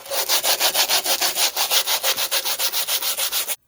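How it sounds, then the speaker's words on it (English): Wooden box being hand-sanded to strip sticky residue, a steady run of rhythmic rasping back-and-forth strokes, close and fairly loud, stopping abruptly at the end. "I'm going to go ahead and give it a good sanding because it does have some sticky residue on it"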